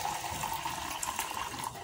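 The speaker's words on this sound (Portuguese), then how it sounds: "Botar um pouquinho de água aqui." A small amount of water is poured into a container to mix a sugary fruit fly and wasp bait, making a close, continuous trickling splash at moderate loudness with no talking.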